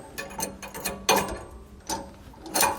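Metallic clicks and ratcheting turns from a wrench working the nut and cup washer off a Roadmaster Reflex steering stabilizer bushing on a 2019 Jayco, with several close, irregular bursts and no talking.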